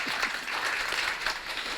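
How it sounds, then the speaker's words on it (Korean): Brief burst of audience applause welcoming a speaker at a Korean political meeting, a dense steady patter of many hands clapping at moderate distance. "여러분 힘찬 박수로 환영 부탁드리겠습니다"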